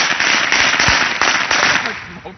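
Firecrackers going off outdoors in a quick cluster of sharp cracking pops, loud and close, with people shouting and talking over the blasts.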